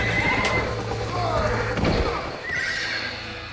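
A horse in the Red Dead Redemption video game lets out a loud, near whinny amid hoof clatter and game noise, with people talking over it.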